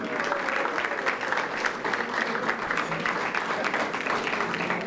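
A luncheon crowd in Hawthorne applauds for the city, steady, even clapping from many hands that holds at moderate loudness for about five seconds, with a bit of crowd murmur underneath.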